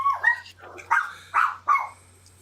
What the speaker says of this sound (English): Yeah, that's my damn dog.